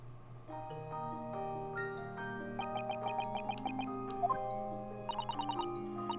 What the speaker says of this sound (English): That's a music box.